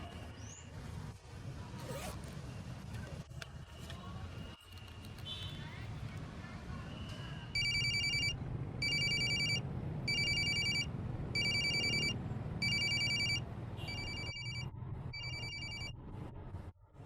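A phone call rings out unanswered, repeating electronic ringback bursts in a regular pattern, heard through background room noise and movement with voices nearby.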